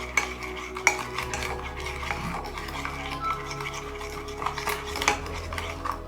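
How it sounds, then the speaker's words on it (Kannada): A clay face pack paste of Multani Mitti is stirred steadily in a small bowl, scraping and clinking softly with a spoon, close and fairly quiet throughout, with no talking. "ಚೆನ್ನಾಗಿ ಮಿಕ್ಸ್ ಮಾಡ್ಕೊಳ್ಳಿ ಈ ರೀತಿ"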